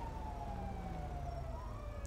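An ambulance siren wails in the LSPDFR police game, its pitch sweeping as it approaches from a moderate distance over low road rumble, with no talk.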